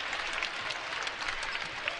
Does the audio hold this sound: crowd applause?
yes